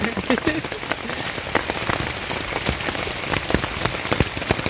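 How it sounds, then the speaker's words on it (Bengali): Heavy monsoon-style rain drums hard and continuously on a taut tent surface nearby in a forest camp, dense with sharp, rapid spattering hits. "বৃষ্টি বাইরে প্রচন্ড বৃষ্টি হচ্ছে"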